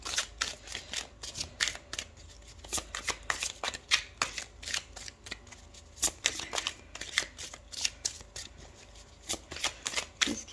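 A tarot deck is shuffled by hand for a card draw, giving repeated close, crisp riffling bursts in an uneven rhythm with brief gaps between them.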